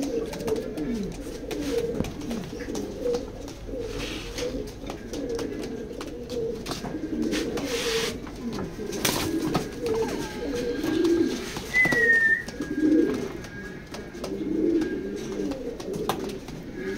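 A pair of pedigree racing pigeons coos steadily at close range, low throaty calls repeating through the whole stretch, with a brief higher chirp midway and no talk over it.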